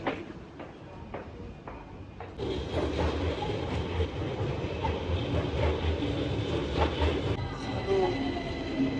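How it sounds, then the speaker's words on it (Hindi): A London Underground train running near the Victoria, Bakerloo and Central line interchange: a low rumbling ride with rhythmic clicks that swells louder as the train gathers speed, with a faint high whine toward the end. "यहाँ से दूसरी ट्रेन ली जाए।"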